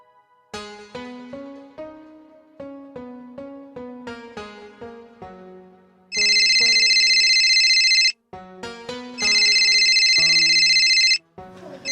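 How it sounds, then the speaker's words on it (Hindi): A telephone ringtone plays a repeating melodic tune, broken by two long bursts of loud electronic ringing. "बिटिया का फोन।"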